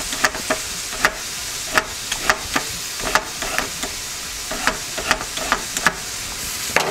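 Carrots for a homemade chop suey sizzle steadily in a hot pan, close and fairly loud, with sharp scrapes and clacks of stirring breaking through at irregular intervals; no one speaks.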